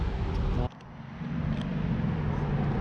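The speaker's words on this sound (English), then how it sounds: "Lovely classic Ferrari." A classic Ferrari drives past on a street in Alderley Edge with a low, steady engine rumble close by, set against background traffic noise.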